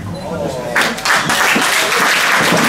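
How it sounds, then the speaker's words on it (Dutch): An audience claps at an award ceremony honouring Special Olympics athletes, dense continuous applause swelling after a moment with a voice speaking over the start. "Nou, nog een keer applaus."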